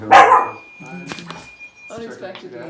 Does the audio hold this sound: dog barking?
yes